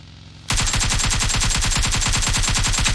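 Rapid automatic gunfire in PUBG Mobile, a loud, steady stream of shots starting abruptly after a brief quiet moment and continuing without pause to the end.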